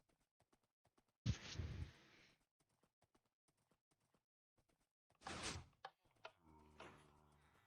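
A horse in a video game clops along, its hooves sounding in soft, faint beats, broken by a couple of loud bursts that resemble doors sliding or shutting.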